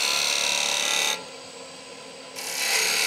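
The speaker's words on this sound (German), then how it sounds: "Jetzt weite ich auch mit dem Meißel den Stich auf, indem ich rechts und links das Werkzeug einsteche." A turning chisel widens a V-cut in wood spinning on a lathe, with a steady, close scraping hiss that drops to a softer, duller rasp midway before the fuller cut returns.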